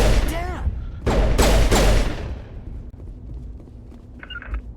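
Gunfire in Mass Effect Legendary Edition, a quick run of sharp loud shots with ringing decay, followed by quieter ambient game sounds and a voice speaking.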